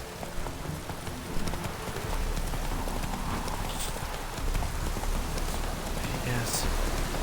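Roach, a horse in The Witcher 3, gallops with rapid clip-clop hoofbeats that run over a steady wash of rain, close and fairly loud.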